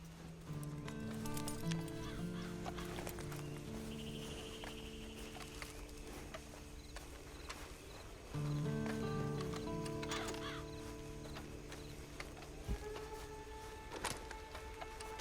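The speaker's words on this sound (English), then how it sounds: "And you better get on this horse." In the Red Dead Online video game, horse hooves clip-clop in a steady, moderate rhythm close by, mixed with soft game sounds and brief tonal effects.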